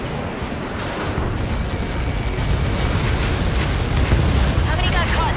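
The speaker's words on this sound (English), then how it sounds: "How many got caught in that explosion?" Massive explosion as a Helios projectile impacts in the Ace Combat 7: Skies Unknown video game, a loud, dense rumbling blast that swells and holds across the whole stretch, with radio chatter faintly under it.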